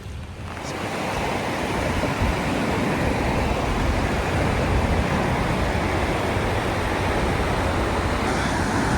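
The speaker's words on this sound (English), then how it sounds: "It's a really cool waterfall right next to the Michi-no-Eki." Waterfall beside a Michi-no-Eki roadside station in the Mount Aso area of Kyushu, Japan, roaring as a loud, steady wash of broadband rushing water that swells in over the first second and holds without a break, with no voices.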